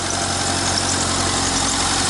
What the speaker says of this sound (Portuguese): A gente vai ligar o motor um pouco pra ver como é que tá o comportamento dele.